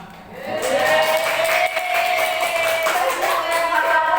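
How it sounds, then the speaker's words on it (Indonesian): Applause from a classroom or training audience for a teacher, Pak Suwanto, sustained clapping for about four seconds with some voices mixed in. "Aplaus untuk Pak Suwanto."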